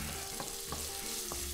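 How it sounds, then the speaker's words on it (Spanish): Ham sizzles steadily in a little oil in a pan, with a continuous close frying hiss and a few soft stirring taps spread through the short stretch, and no one talking. "Yo hago ahora el jamoncito, lo paso así por un poquito de aceite"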